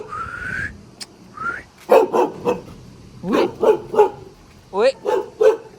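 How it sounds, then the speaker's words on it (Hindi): A dog barks near a hillside walking path by a home in South Korea, a run of sharp, fairly loud barks coming in uneven clusters, with a few higher yips and whine-like cries mixed in. "ये कुत्ता भौंक के हमें डरा देता है।"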